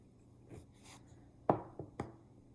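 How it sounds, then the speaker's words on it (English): X-Acto knife slicing around a rolled-out clay slab: a soft scraping stroke, then three sharp close taps or cuts with a short rustle before, quiet and alone. "So I'm gonna take my X-Acto knife again, and I'm gonna cut"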